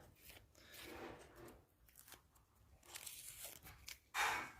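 Parts of a motorcycle that were taped together with adhesive tape are pulled apart by hand. Soft, faint rips and crinkles come in short bursts and end in a sharper tear.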